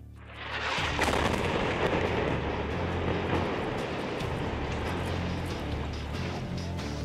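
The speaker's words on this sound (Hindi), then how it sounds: "इस धमाके ने ईरान के दिलो दिमाग को झकझोर कर रख दिया है।" A bomb explosion in Lebanon rolls out as a sustained, heavy rumbling roar that swells in after a brief quiet start and stays loud and dense throughout, with no voices.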